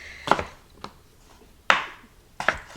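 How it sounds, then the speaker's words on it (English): A knife chops red potatoes into bite-sized pieces on a cutting board, four sharp separate chops with uneven gaps and quiet pauses between them. "I'm just going to cut these into bite-sized pieces"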